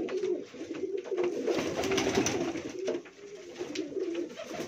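Pigeons being fed coo softly and repeatedly, their low, throaty calls rising and falling close by over faint shuffling and rustling.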